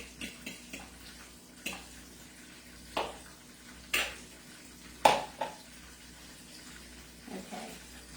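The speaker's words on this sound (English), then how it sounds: "It's at a little bit of a boil, so I'm going to put the slurry in now so it thickens it up." Cornstarch slurry stirred into gently boiling sauce for General Tso's chicken: soft bubbling and sloshing with several light utensil clinks against the pot, fairly quiet and close.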